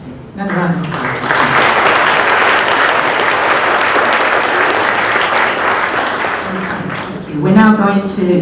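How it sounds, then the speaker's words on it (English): Loud, sustained applause from a large audience at a school presentation day, filling the hall evenly for several seconds, with a speaking voice heard briefly at the start and again at the end. "Another round of applause"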